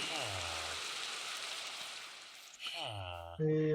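Steady rain hisses through a Minecraft game world for over two seconds, then thins out and gives way to brief tonal game sounds and a sustained chime near the end.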